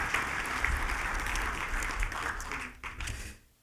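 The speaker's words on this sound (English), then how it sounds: "Let's give them all another round of applause for their 25 years of collective service." Banquet audience at a university founders' dinner applauds in a full, continuous round of clapping that carries on for a few seconds before tapering off and fading away.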